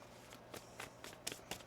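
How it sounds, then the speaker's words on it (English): Tarot cards being shuffled by hand, a few quick soft riffling bursts spaced irregularly, faint and close in a quiet room with no talking. "Let's get one more shuffle here."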